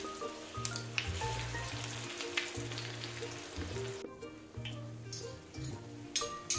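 Chicken vegetable kababs fry in hot oil with a steady, dense sizzle throughout, broken by a few light clicks and taps of a utensil near the pan.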